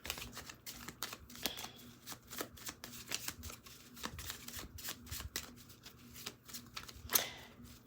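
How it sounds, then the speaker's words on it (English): Tarot cards are shuffled close by in soft, continuous riffles and taps, quiet and unhurried. "So I'm going to go ahead and shuffle."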